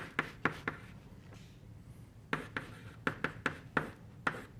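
Chalk or pen strokes on a board during a physics lecture, a run of short sharp taps and scratches in irregular bursts with a quiet pause in the middle, fairly close and alone.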